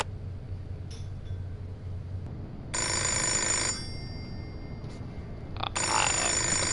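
A telephone ringing in the video game Fahrenheit, two separate electronic ring bursts, each about a second long, over a low background hum, fairly clear and close.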